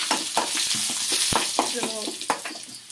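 Dried red chillies frying in hot oil for tempering, a bright crackling sizzle with spatters and stirring clicks, close and continuous, no speech.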